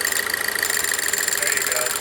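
A Pontiac Solstice's high-pressure fuel pump whirs with a steady, busy mechanical buzz as the engine stalls from fuel starvation, a close, continuous tone over faint engine rumble.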